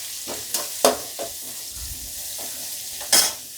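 Ivy gourd pieces frying with turmeric and salt in a pan, a low soft sizzle broken by several sharp spatula scrapes and taps against the pan.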